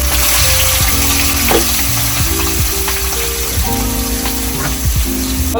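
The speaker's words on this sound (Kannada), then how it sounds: "ಎಣ್ಣೆಯಲ್ಲಿ ಈರುಳ್ಳಿ ಕಾಯ್ತಾ ಇದೆ" Chopped onions frying in hot oil with cumin seeds in a pan for a fish gasi curry: a loud, steady crackling sizzle with occasional scrape-like stirring accents, close and without talk.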